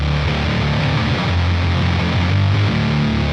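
Heavily distorted, glitchy riff from an Archetype Rabea guitar amp plugin: dense, saturated chugging with stuttering pitch shifts and low sustained notes, loud and continuous without talk.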